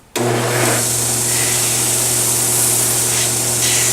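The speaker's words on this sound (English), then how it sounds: "This is a Grizzly 1015 knife grinder." A Grizzly 1015 knife grinder starts abruptly and runs with a loud, steady motor whine and a continuous hissing grind of steel close by, while a shop fan blows nearby.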